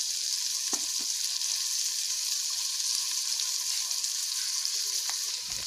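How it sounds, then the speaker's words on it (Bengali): Ginger garlic paste fries in a pan for a masala jackfruit and prawn dish, giving a steady, even sizzle broken by a few faint clicks from the pan. "আদা রসুনের পেস্টটা পুরো দিয়ে দিলাম।"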